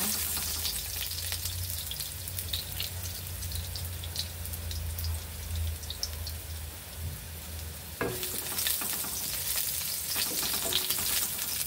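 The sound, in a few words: ginger frying in a pan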